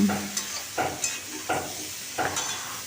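Pointed gourd with salt and turmeric is stirred in a pan with little oil, making a faint sizzle with rhythmic scraping strokes about every half second.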